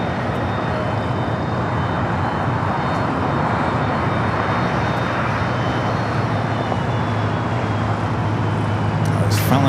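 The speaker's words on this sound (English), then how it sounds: "Finally got moving on that Air Canada Dreamliner" Air Canada Boeing 787 Dreamliner getting under way at LAX, a steady loud jet engine roar with constant broadband rumble, swelling slightly toward the end, with no clear talk.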